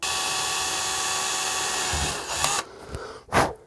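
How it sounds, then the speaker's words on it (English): A power drill whines steadily as it bores a small hole in a PS5 controller, running continuously for over two seconds, then stopping with a few short clicks and a sharp bump of handling noise. "So I'm going to drill the hole"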